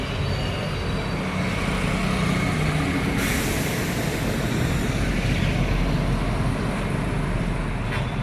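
Road traffic passes along a street in Surat, a loud, continuous low rumble of heavy vehicles with a brief hissing swell in the middle, heard up close without any talking.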